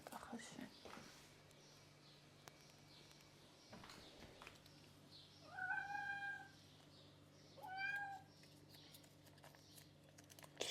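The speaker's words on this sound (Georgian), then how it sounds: "ნუ წუწუნე, ვაგე, ჭამე." A hungry cat whines for food with two drawn-out meows a couple of seconds apart, close and clear in an otherwise quiet room.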